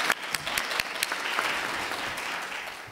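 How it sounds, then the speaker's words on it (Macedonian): Audience applause after a talk at an open-education conference session, a steady wash of many hands clapping throughout, moderately distant, with a few sharper individual claps standing out and no speech over it. "Уште 15 секунди за аплауз имавме, благодарам"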